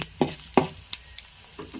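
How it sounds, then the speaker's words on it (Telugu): Mustard seeds tempering in hot oil in a pan crackle and pop in a few sharp close bursts while being stirred, a brief sizzle with no speech. "చూసారుగా, ఆవాలు వేసాను. ఈ రకంగా చక్కగా తిప్పుకోవాలి."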